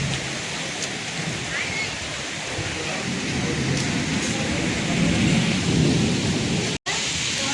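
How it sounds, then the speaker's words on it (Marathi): Heavy monsoon rain pours steadily in a Konkan village while thunder rumbles, the downpour swelling louder toward the end before a brief cut to near silence. "खतरनाक पाऊस आला एकदम."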